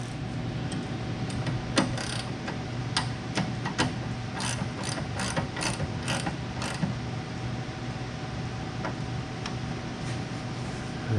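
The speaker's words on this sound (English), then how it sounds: "I'm gonna grab my 9/16 and tighten that down." A ratchet fitted with a 9/16 socket tightens the bolt on a Willys starter solenoid, giving a run of rapid, close clicking pawl bursts with short pauses between them.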